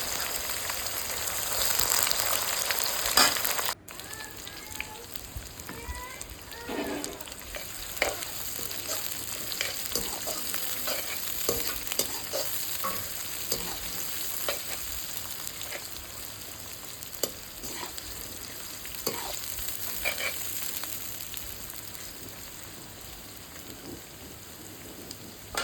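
Onions and red chillies fry in a pan for a village-style Assamese mutton curry, giving a loud, steady sizzle with scattered crackles and stirring scrapes close by throughout.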